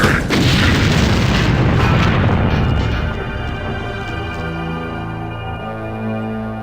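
A bomb explodes in a video game, a loud booming blast that opens at full force and then rolls into a long, fading rumble with a low ringing tail, with no talk over it.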